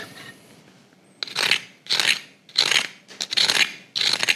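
Crispy cornstarch-coated fried chicken crunches up close in about five distinct bursts, sharp crackling bites separated by brief pauses.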